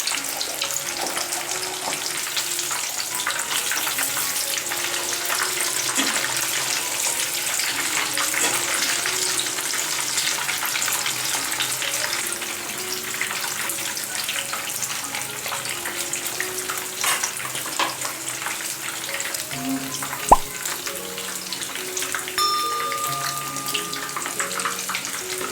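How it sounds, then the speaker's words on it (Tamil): Chicken pieces deep-frying in hot oil on a stove at medium heat, a steady dense crackle and sizzle running the whole time with faint stirring scrapes and one sharp clink near the end. "ஸ்டவ்வை மீடியம் ஹீட்டில் வச்சு நல்லா பொரிச்சுக்கோங்க"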